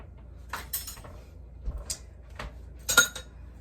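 Ladle and other kitchen utensils dropped one after another into a donation bin, giving a few separate clinks and clatters with pauses between them, close and moderately loud.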